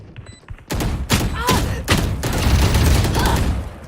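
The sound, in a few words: gunfire in the video game Valorant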